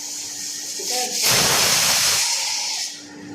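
Crushed garlic dropped into hot oil for a brinjal curry, with a sudden loud sizzle and hiss that flares up and holds for more than a second before easing back to a softer frying crackle.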